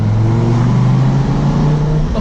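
A 2004 Dodge Viper's engine rumbles loud and steady through its side-pipe exhaust, a deep continuous drone with low harmonic tones that shift slightly in pitch as it runs, heard from inside the car.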